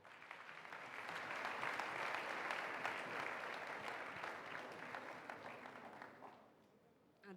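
Audience applause at the NISA 2022 cultural distinction award ceremony honouring a legendary artist: a dense, sustained wash of clapping from a large crowd, steady for about six seconds before fading out.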